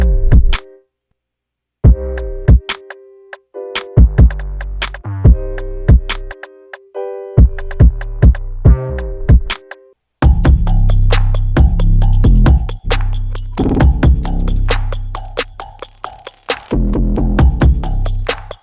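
Deep, booming 808 bass synth presets in Ableton Live play in a rhythmic pattern, some notes sustained and some short, joined later by punchy drum hits; loud and close.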